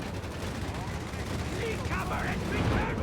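Strafing run in the real-time strategy game Company of Heroes 3, rapid rattling gunfire bursts layered with battle noise, continuous and moderately loud, with voices from the game mixed in.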